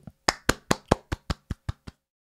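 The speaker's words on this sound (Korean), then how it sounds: "박수!" Nine crisp hand claps in a steady, slightly quickening rhythm, close and clear against a quiet background, fading a little toward the end.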